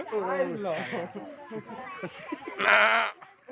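People talk up close, and a goat bleats loudly twice between their voices.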